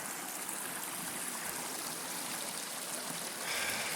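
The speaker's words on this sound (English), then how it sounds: "We've got a lot of water coming down the mountain today." Rain-swollen mountain stream after a night of heavy rain, a steady, dense rush of flowing water close by, continuous and without voices.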